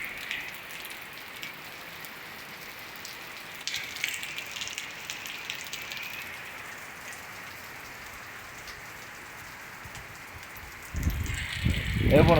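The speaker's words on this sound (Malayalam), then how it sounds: "നല്ല മഴ സൂപ്പർ മഴയാണ്." Heavy rain pours down in a steady, even hiss of drops on surfaces, and near the end a louder, closer burst of splashing and low rumbling rises over the downpour.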